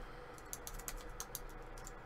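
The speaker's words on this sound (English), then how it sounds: "I wasn't paying attention to where I was typing" Quick, irregular clicks of fingers typing on a computer keyboard, fairly close but soft, a burst of keystrokes with small gaps and a quiet background.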